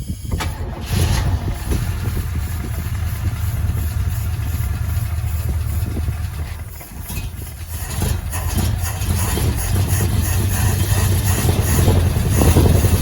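An early-1970s Chevy Nova V8, untouched for 34 years, cranks and catches, then runs with a rough, rumbling idle that dips briefly before steadying and climbing again, loud and close with no talking over it.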